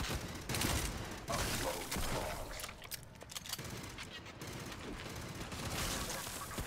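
A burst rifle fires in the video game Aliens: Fireteam Elite, with loud, rapid bursts of shots and mechanical clatter layered over busy combat noise, heaviest early on.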